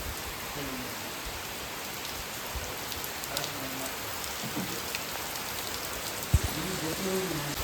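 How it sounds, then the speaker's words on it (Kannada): Steady rain falls during a trip back from a temple visit, a soft, even patter of drops that continues throughout, with a few faint background voices and one brief knock near the end. "ಬತ್ತ ಮಳೆ ಸಿಕ್ತು."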